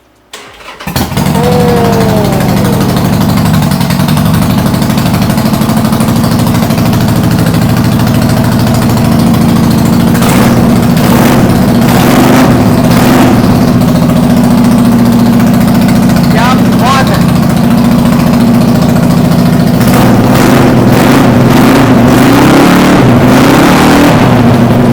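A superbike engine, one of the used Benelli, Ninja, Z900 or Harley machines at a Karol Bagh dealer, starts and settles into a steady loud idle with several sharp throttle blips, voices talking over it.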